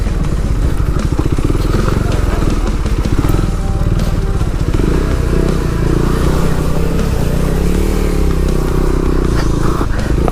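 A KTM Duke 390 motorcycle engine idles and revs on an off-road trail, a loud close throbbing putter rising and falling in pitch, continuous throughout with occasional rattles.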